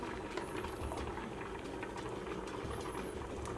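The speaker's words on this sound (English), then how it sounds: "we're going to take about a cup of the pasta water. Again, be careful, it's very hot" A pot of boiling pasta water bubbling and rolling steadily up close as a cup of the hot water is scooped out, faint clinks over a continuous churning hiss.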